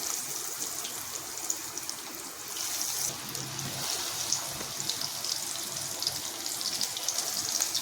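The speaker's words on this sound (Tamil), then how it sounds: "இந்த மாதிரி எண்ணெயில் போட்டு எடுத்துக்குவோம்." Vegetable cutlets frying in hot oil, a dense, even crackle and sizzle close by, with a continuous patter of tiny pops that holds steady throughout.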